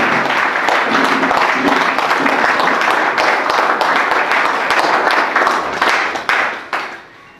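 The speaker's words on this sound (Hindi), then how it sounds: "जोरदार तालियां, जोरदार अभिनंदन चाहूंगा आप लोगों को" An audience at a motivational speech event claps loudly and steadily for several seconds, then the applause thins out and dies away near the end.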